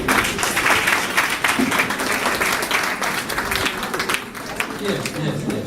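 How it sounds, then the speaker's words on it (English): Hospital staff at Tafo Government Hospital clap for themselves, a brisk burst of group clapping that runs under people talking, fading slightly toward the end. "Please clap for yourselves"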